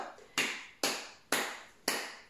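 Four single hand claps ring out alone at an even, unhurried pace, each crisp and close with a short decay into quiet between them.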